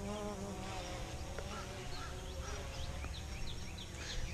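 A small drone flying outdoors gives a steady buzzing propeller hum with a faint whine, while bird chirps come and go in the background.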